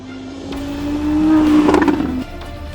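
A powerful Audi R8 with a 5.2-litre naturally aspirated V10 roars at a track day, its tone rising steadily as it revs up, then cuts off abruptly near the end.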